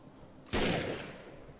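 A single sharp bolt-action sniper rifle shot in the game Defiance, a loud crack with a lingering reverberant tail fading over about a second, preceded by quiet ambience.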